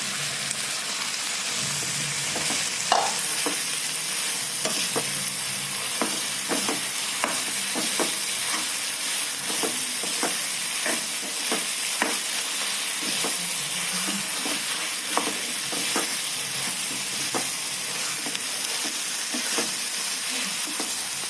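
Soybean chunks frying in a hot pan for a curry, a continuous loud sizzle with regular scraping and clacking of a spatula stirring close by.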